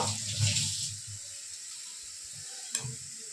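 Turmeric water for a mustard paneer recipe is poured and stirred in a bowl, with a short close splash of liquid fading into soft trickling.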